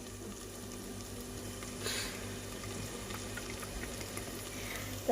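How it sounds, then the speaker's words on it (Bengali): Vegetables such as bitter gourd frying in a pan in a home kitchen, a steady soft sizzle and bubbling throughout at low level, with a brief louder hiss near the two-second mark. "এখানে করলা ভাজা হয়েছে এখানে আমরুটা ভাজা হচ্ছে"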